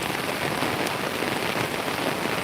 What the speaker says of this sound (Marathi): चला बघा पाऊस बघा जोरात पडत आहे पाऊस